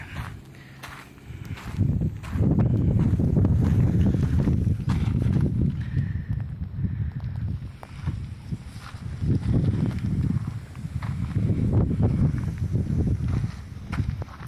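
Cold wind buffets a microphone outdoors beside a 1992 Dodge W250 4x4 diesel truck, loud low rumbling gusts that swell and fade in waves, with footsteps faintly underneath.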